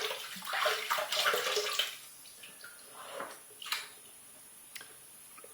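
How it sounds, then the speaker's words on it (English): Water splashes and trickles at a sink as a face is wet before a razor shave, with irregular close splashes and drips that rise and fade in short bursts. "I'm going to go ahead and wet my face and start lathering up."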